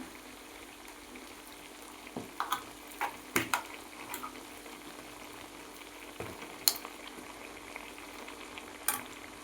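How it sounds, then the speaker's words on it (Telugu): Ginger paste frying in a pan for chicken pickle, a soft low bubbling sizzle with occasional sharp clicks and taps from stirring, quiet and close. "అల్లం పేస్ట్ మనకు పచ్చివాసన పొయ్యేంత వరకు వేపుకోవాలి"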